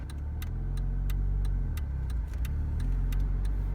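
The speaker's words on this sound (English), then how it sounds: "Upshift. We're in 3rd gear right now." A manual car's engine hums low and steady while driving through the gears on a hot day, with faint regular ticking clicks above it and no talking.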